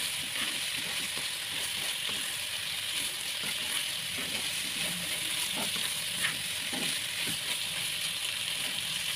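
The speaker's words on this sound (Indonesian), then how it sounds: "Kita tumis lagi." Salted squid and bitter melon stir-fried with sugar and seasoning powder in a pan, giving a steady, close sizzle with soft scraping and stirring throughout, no voices.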